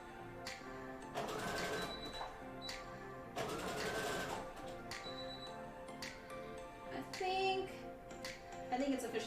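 A domestic sewing machine stitches in short bursts while running low on bobbin thread, its mechanical whir and ticking sitting close, with faint pauses and a few light clicks between runs.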